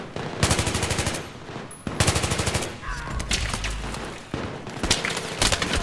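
Automatic gunfire in Battlefield 3 on Operation 925: several rapid, loud bursts separated by short pauses, with a low thump in the middle and almost no talking.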